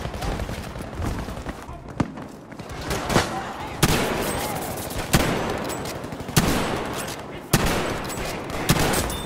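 Rifle shots and heavy gunfire in Battlefield V, a match on the Metro map with a Lee-Enfield, sharp loud cracks at irregular intervals over constant distant battle rumble and explosions, a player talking throughout.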